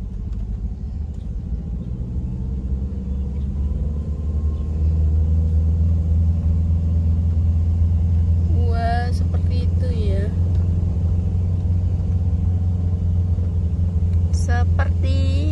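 A manual car's engine hums in a steady low rumble and swells slightly as gas is added during a driving lesson. People talk over it throughout.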